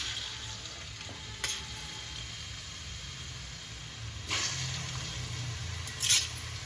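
Grated bottle gourd cooking in hot oil in a pan for halwa, a continuous soft hiss with a few louder scraping stirs, no talking.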